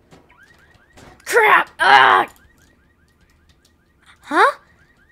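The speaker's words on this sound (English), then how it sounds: "Car alarm." Faint, rapidly repeating rising electronic whoops of a car alarm, interrupted by loud exclaiming voices.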